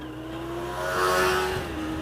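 A motorcycle revving as it passes on a coastal road beside mangroves, its engine note climbing and swelling to a peak before easing off, heard fairly close.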